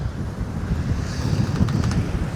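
Wind blows steadily across a sailboat at sea in about 12 knots of breeze, a broad, rushing buffet that rumbles against the microphone with a faint wash of water beneath it.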